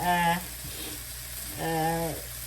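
Onions and spices for a dried fish curry sauté in a pan, a constant soft sizzle running beneath two short bursts of someone speaking close by.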